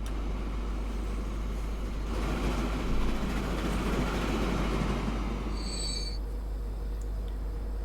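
A freight train runs in the video game Transport Fever 2, a continuous loud rumbling roar of rolling wagons with a short high wheel squeal near the end.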